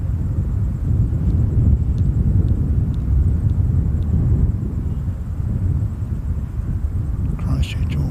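Airbus A321neo airliner on Christchurch–Auckland flight 552, heard as a steady, loud low-pitched engine rumble that persists throughout, with light wind noise and faint ticks.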